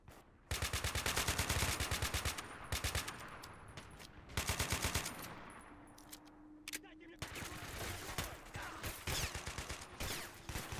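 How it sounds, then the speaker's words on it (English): Rapid rattling AK rifle bursts mix with other automatic gunfire in a video game battle around an ambushed Russian convoy, loud and near in clustered volleys with brief pauses, under some speech. "Oh, the rattle of that AK."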